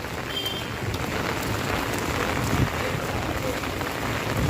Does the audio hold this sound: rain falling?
yes